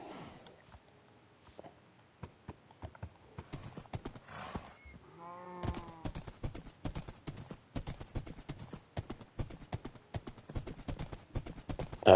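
Horse walking in Minecraft, a string of crisp game-style clip-clop hoofbeats, sparse at first then quickening into a brisk steady rhythm, with a short whinny partway through.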